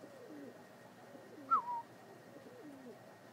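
Pigeons around a backyard coop at dusk, soft low cooing repeating steadily in the background with one brief sharper call standing out, quiet and fairly close.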